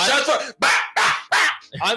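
A dog barks five times in quick, uneven succession, loud and close. The barks are sharp and yippy.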